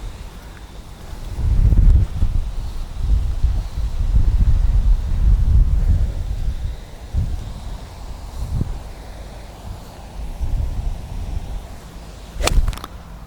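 Outdoors, wind gusts buffet the microphone in low rumbling surges that swell and fade over several seconds, strongest early on, with a brief sharp rustle near the end and no talking.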